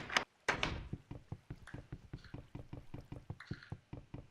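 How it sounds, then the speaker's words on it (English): A wooden door in the Minecraft video game clicking open and shut, two sharp clacks at the start followed by a fast, steady run of short knocking clicks, close and clear with no talking. "Obviously a wooden door I can also open by hand."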